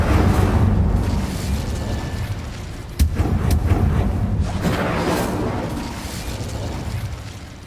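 Incendio fire spell cast in the Hogwarts Legacy video game, a roaring burst of flame with a sharp crack near the middle, dense and loud, with no talk over it.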